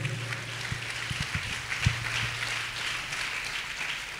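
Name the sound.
congregation clapping in praise of God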